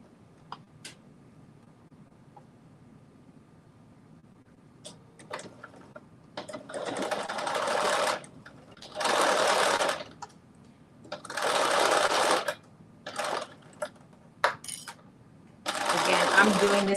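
A sewing machine stitches a seam just under a 5/8 inch allowance in several bursts of rapid, close whirring, four main runs of varying length, separated by quiet gaps with small clicks and handling noises.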